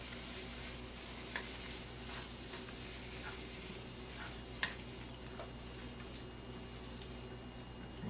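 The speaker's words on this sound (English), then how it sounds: "I'm going to stir again." Vegetables for chop suey frying in oil, stirred now and then: a steady, moderate sizzle with a few soft clicks and scrapes of the utensil scattered through it.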